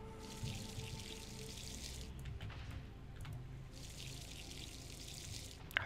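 Plants are watered in the video game Wrongworld, with a soft, continuous pouring and trickling of water that pauses briefly and resumes, faint under low background game ambience.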